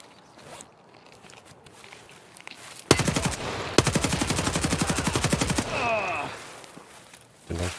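Automatic gunfire in the video game Escape From Tarkov, a loud rapid burst lasting a few seconds after a quiet stretch, followed by a metallic rattle and a brief later thump.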